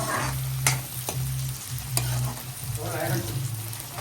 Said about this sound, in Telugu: ఇప్పుడు ఆనియన్స్, అల్లం వెల్లుల్లి పేస్ట్,